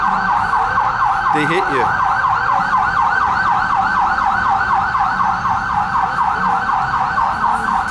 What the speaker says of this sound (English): that's the first siren I've heard here.